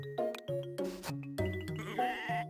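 Sheep in the Harvest Moon farming game bleat in a quick run of short, clear calls, several overlapping and varying in pitch, quiet and close.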